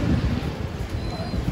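Wind blowing across the rooftop of a large pigeon loft, a steady broadband rush with gusty low rumble, fairly loud and continuous for the whole moment.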